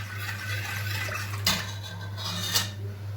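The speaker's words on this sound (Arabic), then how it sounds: "تقلبي اللبن بتاعك كده كويس، اخلطي القشطه بتاعته فيه" A spoon clinks and scrapes softly against a metal pot while stirring milk, with a couple of sharper taps over a low steady hum.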